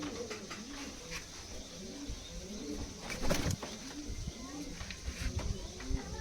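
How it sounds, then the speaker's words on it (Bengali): Rampuri Golden pigeons in a loft coo softly in a steady, repeating rhythm, with a few light chirps and rustles and some quiet voices in the background. "এই যে রামপুরি গোল্ডেন সেটটা প্রত্যেকটা কবুতর দারুণ দারুণ রয়েছে"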